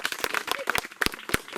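Several people clapping in scattered, irregular claps that are close and moderately loud, with a little murmuring between them.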